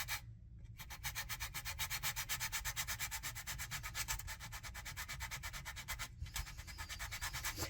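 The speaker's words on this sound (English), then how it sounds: "So I'm just going to kind of point my sanding block off in the right direction." Steady, rhythmic rasping of a small sanding block fairing the wooden frames of a model ship hull, continuous back-and-forth strokes close up, with a brief pause partway through.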